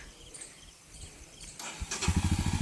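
A Royal Enfield Bullet motorcycle on a rainy rural road fires up after some rustling, settling into a loud, close, rhythmic thumping idle.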